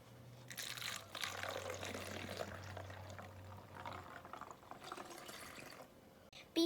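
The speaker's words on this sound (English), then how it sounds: "Now we're going to pour it into the bottle." Homemade hand sanitizer of witch hazel, water and fragrance poured into a spray bottle: a soft, steady liquid trickle for several seconds, faint and close, ending with a small clunk.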